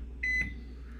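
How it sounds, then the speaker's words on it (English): A kitchen microwave oven gives one short, clear electronic beep, heard alone against a quiet background hum. "Nothing worse than time left on a timer on a microwave."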